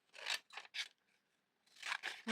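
Scissors snip through glossy magazine paper in short bursts, three quick cuts, a pause, then three more, close and quiet, with no talking.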